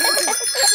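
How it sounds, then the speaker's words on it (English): A bicycle bell rings in quick repeated trills, bright and close, with a steady metallic shimmer throughout. "Ringing your bell lets others know you are there."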